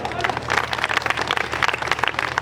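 A crowd at an MQM political rally in Malir breaks into steady, dense applause, many hands clapping together at close range, with shouts and voices mixed into the sound.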